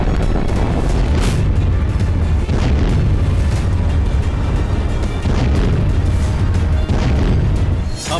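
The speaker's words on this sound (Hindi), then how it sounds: "RBK 500 क्लस्टर बम के मॉडिफाइड वर्जन से यूक्रेनी सरजमी को दहलाएगा।" Heavy rumbling booms from a Russian RBK-500 cluster bomb strike in Ukraine, with continuous loud low-frequency blasts and repeated thuds rolling through the whole stretch, dense and sustained rather than a single isolated bang.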